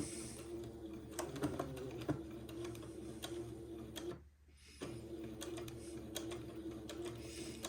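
A sewing machine runs a French seam on Swiss batiste with a quiet, rapid ticking hum, pausing briefly partway before resuming with light clicks.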